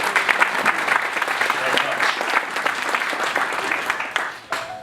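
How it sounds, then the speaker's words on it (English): Audience applause follows a welcome at an IBM event introduction, a dense patter of many hands clapping steadily at moderate loudness before tapering off near the end, with faint voices mixed in. "big round of applause"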